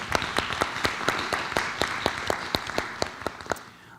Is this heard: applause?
yes